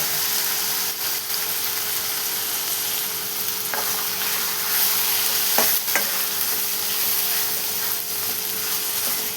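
Continuous sizzling and frying hiss as masala is sautéed in a pan, with a few sharp clicks of stirring.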